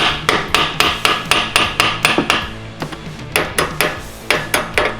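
Sharp metallic hammer strikes on a turbo clamp of a Can-Am X3 Turbo land in quick, regular bursts, loud and close, with a short pause midway before the rapid blows resume.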